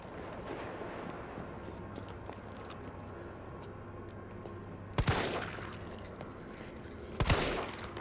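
Two sharp, loud gunshots in the Resident Evil 3 video game, spaced a couple of seconds apart over a steady ambient game background hum.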